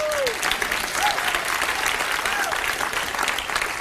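A comedy theater audience gives sustained, loud applause with a few whoops and voices mixed in, holding steady throughout.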